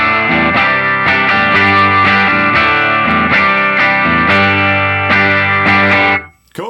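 An electric guitar plays distorted, rhythmic chords through a Line 6 HX amp modeler with reverb and delay, effects smearing the notes before it cuts off abruptly.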